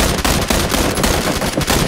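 Rapid automatic gunfire in a video game, dense and continuous bursts of shots filling the whole stretch, loud and close with no talk over it.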